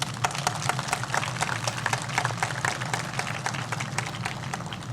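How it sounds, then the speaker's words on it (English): An audience at a Chadwick Boseman remembrance event in Anderson applauds local artists, steady crisp clapping from a modest crowd with individual claps audible, moderately close and even in level. "Let's give those folks a round of applause."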